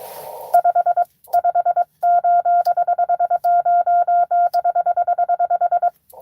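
Amateur radio Morse code CW tones during a portable park activation, a clean steady-pitched beeping keyed in rapid dits and dahs with short gaps, loud and alone.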